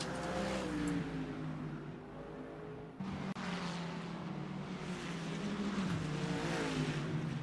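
A race car engine in a DTM racing video game at Autodrom Most roars steadily up close, its pitch rising and falling through gear shifts with a brief dip partway through, and no voices.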